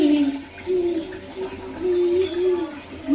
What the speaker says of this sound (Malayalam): മതി, പൈപ്പ് നിർത്ത്.